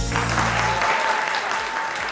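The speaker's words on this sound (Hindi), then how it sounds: "ख्वातीनो हजरात, भरपूर तालियों में इस्तकबाल कीजिएगा।" Studio audience applause welcoming the host of a talk show, a dense burst of clapping that fades slightly across the short stretch, with faint background tones underneath.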